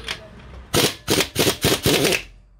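An impact wrench unscrews the front shock absorber nut on a VW Golf 4, five loud close rattling bursts in quick succession after a brief quiet moment.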